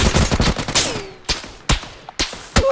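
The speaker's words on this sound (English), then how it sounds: "I'm getting shot in the back now" Rapid gunfire in PUBG, with dense bursts at first and then several sharp, loud single shots spaced through the rest, close and with no talk.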